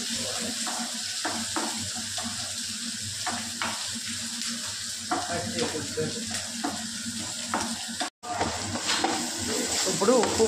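Dried red chillies sizzle and crackle in hot oil in a pan, a steady frying hiss punctuated by stirring scrapes, with a brief cut near the end.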